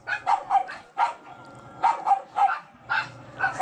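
Several neighbourhood dogs bark in quick, repeated bursts of sharp barks and yips. The barking is fairly near and clear, with no talking.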